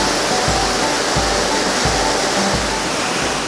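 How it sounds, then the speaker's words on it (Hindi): Hogenakkal waterfall on the Kaveri river roars as a loud, constant wash of falling water, close and unbroken, with faint low thumps recurring beneath it and no talk. "होगेनकल वाटरफॉल यहाँ की धार्मिक नदी कावेरी नदी के जल से निकली है"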